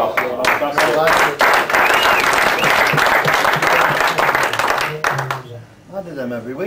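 An audience at a snooker exhibition breaks into loud, sustained applause that rises quickly and tails off after several seconds, with a few voices audible at the start and end.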